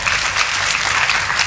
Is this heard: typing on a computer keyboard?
no